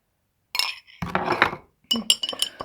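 Metal spoon clinking against a glass while stirring sugar into a drink, a few bright taps in short bursts separated by brief pauses, close and fairly clear with no talking.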